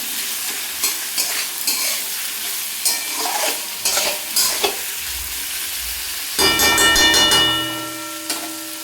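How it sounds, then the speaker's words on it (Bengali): Taro pieces and a medium tomato sautéed in a pan, with repeated spatula scrapes and stirring over a constant sizzle, then a louder burst of frying with clinks near the end. "এই যে টমেটো দিয়ে আর কিছুক্ষণ কষিয়ে নেব, যাতে টমেটোটা ভালোভাবে একটু গলে যায়"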